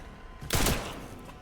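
Gunfire from the video game Resident Evil Requiem: one loud, sharp blast with a short ringing tail, alone, following a stretch of low background ambience.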